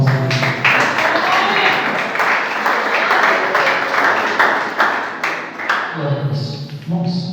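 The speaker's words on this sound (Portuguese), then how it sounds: "Pode louvar o Senhor nas palmas." A church congregation at a Friday evening service claps hands in praise, a dense, loud, continuous round of clapping that fades out at the end, with voices mixed in.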